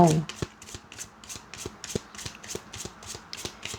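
Tarot cards are shuffled steadily by hand, with a quick, even run of close, crisp riffling flicks that continues throughout at moderate loudness, with no talk over it.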